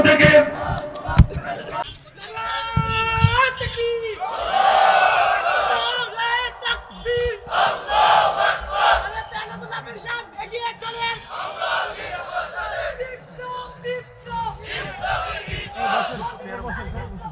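A crowd at an Islamic religious gathering answers the takbir call, many voices shouting together in loud rising bursts of chanting, with a lead voice and echoing hall reverberation.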